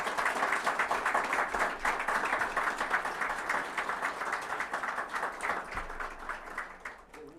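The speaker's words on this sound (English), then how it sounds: "let's give all of our concept awardees a well-deserved round of applause" Audience applause at the Ministry of Digital Transformation's D'HUB Challenge Concept Awards 2023, honouring concept award winners: dense, sustained clapping from a crowd that holds steady, then gradually thins out.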